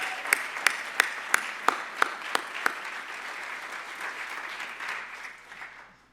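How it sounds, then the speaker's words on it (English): Audience applause at the Saskatchewan Arts Awards ceremony, a steady wash of clapping with a few sharp, close claps standing out early on before it thins and fades toward the end. "Let's please give them another round of applause."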